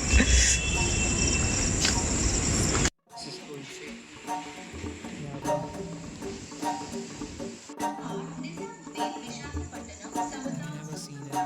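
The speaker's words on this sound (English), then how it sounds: "Never seen an army train before." A military train moves through an Indian railway station at 1 a.m., opening with a loud rolling clatter of wagons that cuts off sharply, then quieter rattles, knocks and distant rumbling with crickets in the background.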